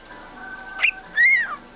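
A pet bird gives two short whistled notes, a quick rising chirp followed by a longer swooping whistle, fairly close and clear against a quiet room.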